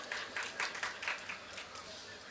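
An audience at a Tamil motivational talk claps in brief, scattered bursts of moderate volume that soon fade into a steady room murmur.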